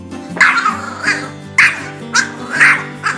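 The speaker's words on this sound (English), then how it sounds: "Despite its small size, it has a loud bark" A small Pomeranian dog barks repeatedly, sharp high yaps coming every half second or so, close and loud.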